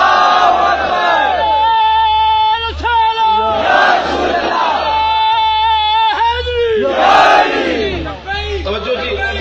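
A large crowd at an iftar gathering in a marriage hall shouts slogans in loud, rhythmic call-and-response bursts, voices swelling together in repeated chant waves close by.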